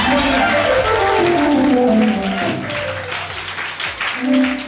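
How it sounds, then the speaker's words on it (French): A church congregation at a thanksgiving youth service applauds loudly and steadily, a dense sustained wash of clapping that swells and then eases slightly. "J'aimerais que tu acclames d'abord très fort le Seigneur"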